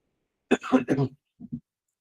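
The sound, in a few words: cough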